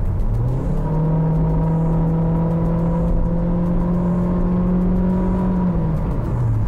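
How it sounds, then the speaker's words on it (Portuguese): A car with a CVT transmission is floored for an overtake, its engine revving loudly at a steady, droning high pitch that holds nearly constant throughout, then eases slightly at the end, heard from inside the cabin. "A gritaria do motor toma conta da cabine."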